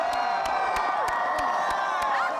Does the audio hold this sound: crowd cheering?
yes